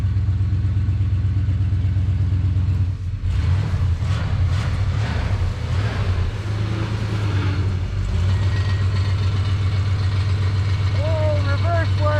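An old 1970 Dodge D-100 pickup, abandoned and just revived, runs and rolls along under its own power. The low engine note drones steadily throughout, with a rougher, busier stretch in the middle.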